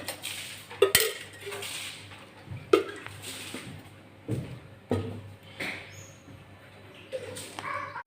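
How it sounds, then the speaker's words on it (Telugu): A cooking pot clanks onto a stove and oil goes in, with several sharp metallic knocks and clinks scattered across a quiet kitchen and faint background sounds between. "స్టవ్ మీద గిన్నె పెట్టుకొని ఆయిల్ యాడ్ చేసుకున్నాం రెండు స్పూన్ల ఆయిల్"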